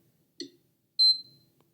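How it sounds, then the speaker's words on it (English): A PS5 controller gives two short electronic beeps, the first a brief chirp and the second a longer, clearer tone about half a second later, in an otherwise quiet room. "press and hold the power button until you hear 2 beeps"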